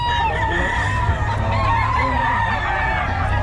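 Many chickens clucking and roosters crowing together in a busy, noisy yard, continuous and fairly loud.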